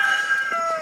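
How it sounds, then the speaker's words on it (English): Chickens give a brief, close burst of high, tonal calling and clucking from a crowded flock. "it's chicken heaven in there!"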